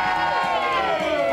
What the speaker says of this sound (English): Give it a cheer.